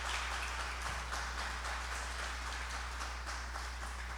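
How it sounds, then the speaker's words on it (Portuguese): A church congregation applauding during a Father's Day service, a steady, dense wash of clapping that holds at an even level for several seconds, with a low hum underneath. "Vamos aplaudir a Cristo."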